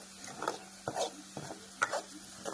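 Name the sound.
tomatoes added to fried masala, sizzling and stirring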